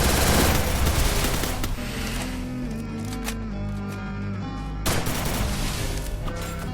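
Rapid bursts of automatic gunfire crackle through a Free Fire battle royale firefight, loud and dense at the start, easing into steadier shots and game ambience, then surging again near the end.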